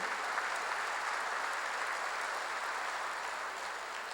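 A church congregation claps together during a sermon at a Korean church, a dense, continuous round of applause that holds steady and loud before easing slightly at the end.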